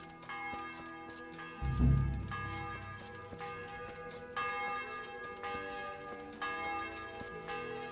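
A church bell tolling in Kingdom Come: Deliverance, a series of resonant strikes roughly one per second with a low thud near the start, bright ringing tones sustained over a quiet ambience.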